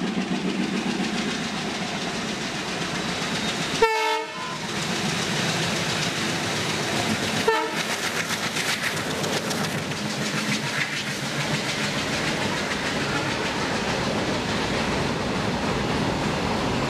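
A Konkan Railway train runs by in a steady, continuous rumble of wheels on rails, broken by two sharp horn-like tonal bursts near the start; no voices are heard.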